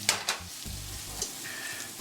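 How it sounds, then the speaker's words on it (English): Onions sauté in olive oil with a low steady sizzle, a couple of quick spoon clicks at the start and a faint scrape later, close and quiet. "our onions have sweated down pretty good"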